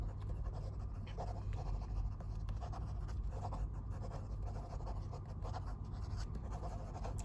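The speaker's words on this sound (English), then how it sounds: "Quick writing." Lamy fountain pen scribbling quickly across paper, a steady soft scratching that runs continuously for several seconds over a low background hum.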